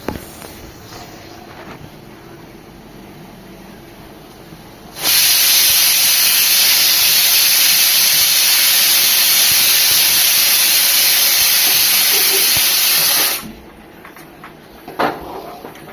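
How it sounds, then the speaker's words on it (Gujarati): Ghee and jaggery heating in a pan for churma ladoo break into a loud, steady sizzling hiss that starts abruptly, holds for about eight seconds, then cuts off to near quiet. "ઘી અને ગોળ ગરમ થાય છે."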